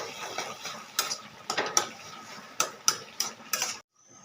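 A metal spoon scrapes and clinks around a pan while taro stolons with cumin paste are stirred, giving about eight sharp, close strokes at an uneven rhythm over a low background hiss, with no talking.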